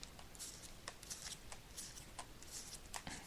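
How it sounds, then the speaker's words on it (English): Tarot cards are shuffled and laid out on a table, a run of crisp, close riffles and soft flicks repeating in quick bursts, with no talk. "I'm just laying out the cards now."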